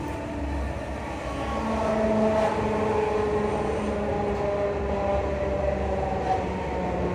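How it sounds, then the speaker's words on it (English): A train stands at or moves through a station, a steady rumbling drone with low hum and faint tonal whines running throughout, fairly loud and continuous with no voices. "Please mind the gap when alighting from this train."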